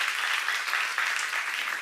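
A church congregation at a seminar applauds in a steady, dense wash of many hands clapping, evenly loud throughout with no pauses.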